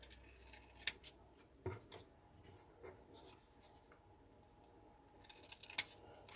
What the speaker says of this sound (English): I'm going to add some shamrocks kind of all around just to make it a little more festive. So I'm just going to cut these up.